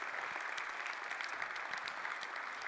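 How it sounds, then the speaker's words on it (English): Steady, full applause from a conference crowd for the organizing team at the Data Innovation Summit 2023, a continuous hiss of many hands clapping at an even level throughout. "give the Data Innovation Summit team a big applause for organizing such a fabulous event"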